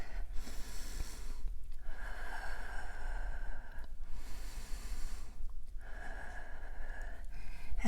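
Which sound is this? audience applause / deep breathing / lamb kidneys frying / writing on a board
deep breathing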